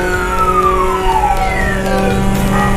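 Police car siren in Euro Truck Simulator 2 while driving a Honda Civic EP3 Type-R, a loud close wailing tone sweeping up and down continuously over engine rumble.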